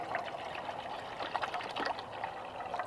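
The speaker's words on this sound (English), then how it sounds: "put some water in the pot" Water pours into a pot on a backpacking stove outdoors, a close, steady trickling splash that continues for a few seconds at moderate volume, with no talking.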